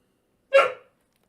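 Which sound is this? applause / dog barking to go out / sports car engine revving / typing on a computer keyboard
dog barking to go out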